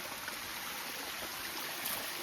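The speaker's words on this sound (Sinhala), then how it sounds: "ඔන්න ඇල්ල" A waterfall stream flows with a continuous, even rushing wash that sounds close and fairly loud. It stays steady throughout, with no voices over it.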